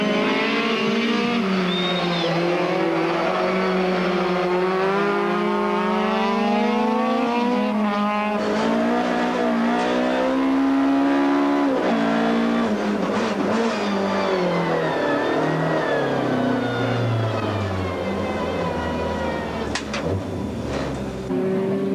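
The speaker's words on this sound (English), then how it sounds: "teammate Kuhn joined the circuit right behind the sister Golf, offering excited fans the unique opportunity of seeing the cars go head-to-head in track racing" Volkswagen Golf rally cars racing head-to-head on a karting circuit in South Africa, engines revving loudly and shifting pitch as they accelerate and pass, with sustained high-pitched whine throughout.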